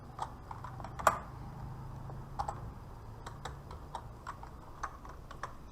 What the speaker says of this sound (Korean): 여기다가 메리라고 쓸 거예요